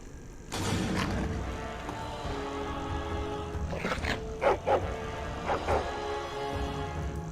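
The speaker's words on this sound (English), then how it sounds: "Alright, there's dogs." Dogs in the video game Dragon Age Origins give gruff, growly barks and yips over a sustained low game soundscape, with a cluster of louder barks toward the end.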